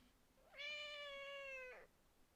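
A pet cat gives one clear, drawn-out meow lasting about a second, close and fairly quiet, with no talking.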